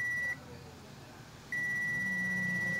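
A digital multimeter's steady continuity beep sounds briefly, stops for about a second, then resumes and holds, signalling a shorted IGBT in a welding machine, with faint background noise.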